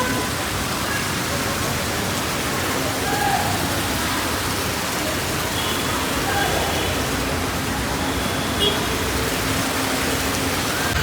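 Water fountain splashing outside a shopping mall, a steady broadband rush of falling water that holds constant throughout, with faint outdoor background sounds mixed in.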